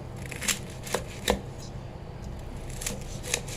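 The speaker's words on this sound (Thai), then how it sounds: "ขออนุญาตหั่นแป๊บนึงนะคะ" A knife cuts through hot, freshly made crispy pork, giving a few sharp crunchy taps spaced apart, fairly close and moderately loud.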